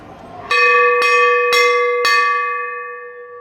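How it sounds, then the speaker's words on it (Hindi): Temple bell at an old Hindu temple with ancient doors, struck four times in an even rhythm about half a second apart, loud and close with a clear ringing tone that lingers and slowly decays. "घंटी हैं"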